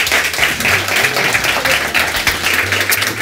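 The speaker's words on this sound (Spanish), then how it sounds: "Le dais un aplauso a mi amiga Teresa" A television show audience applauds a guest named Teresa, steady dense clapping filling the room at even loudness throughout, with only a faint trace of other sound beneath it.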